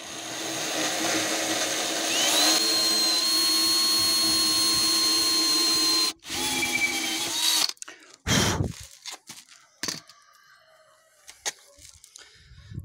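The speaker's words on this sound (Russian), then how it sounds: "Вот так вот берем и сверлим." A power drill bores through a metal sheet for a homemade welder cart, whining steadily and loudly for about six seconds, then cutting out and giving way to short bursts and clatter.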